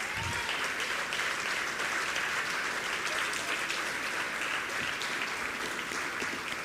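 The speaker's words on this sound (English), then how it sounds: "please give them a round of applause" Steady, dense applause from a large crowd at a primary school graduation ceremony, loud and continuous throughout with no pauses.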